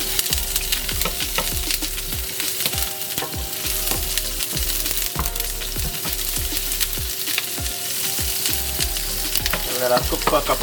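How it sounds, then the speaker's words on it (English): Onions and pepper sautéing in a little oil in a pan while cooking curry peas, a steady close sizzle with repeated scraping stirs throughout, no talking. "just to get so I can saute the onions"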